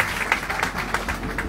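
A church congregation claps during a Sunday worship service, giving a busy, fairly close patter of hands with sharp individual claps poking through an even, lively level.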